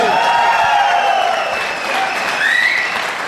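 Sustained audience applause at an outdoor business meeting held under tents with parked cars forming the side walls, a dense, loud wash of clapping running steadily throughout.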